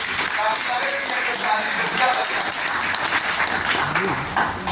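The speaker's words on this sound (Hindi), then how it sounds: "जनता से हम आग्रह करेंगे कि सर का एक बार पूरा जोरदार ताली बजाकर स्वागत कीजिए" Audience in a hall applauding to welcome a departing SDO at his farewell, a dense steady wash of many hands clapping throughout, fairly loud, with faint voices mixed in.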